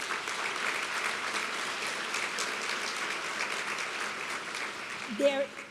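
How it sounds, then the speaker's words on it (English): Steady applause from the audience at a National Philanthropy Day gathering in Orange County, honoring the nominated honorees; dense clapping fills the room evenly for about five seconds, and a voice cuts in briefly at the end. "Let's give them all another round of applause."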